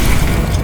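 An Incendio fire spell goes off in Hogwarts Legacy, a loud, close, rumbling whoosh and boom that fills the whole brief moment.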